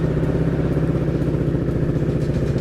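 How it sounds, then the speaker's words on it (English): A KTM RC390 motorcycle engine idles steadily and loudly up close, a fast even single-cylinder chug with a slight rattle and no change in pace. "Start the bike up and let it idle"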